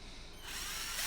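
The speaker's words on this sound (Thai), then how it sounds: "เดี๋ยวเราจะลองเจาะซัก สามสี่รูนะครับ" A cheap cordless power drill bores into hardwood, its motor whine rising and swelling steadily as the bit bites in, loud and close with no talking.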